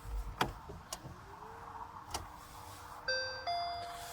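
A Skoda Citigo iV electric car starting up: a few soft clicks and relay ticks, then a series of clear electronic chime tones rings out near the end, close and moderately quiet.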